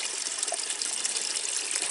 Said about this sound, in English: runoff creek, and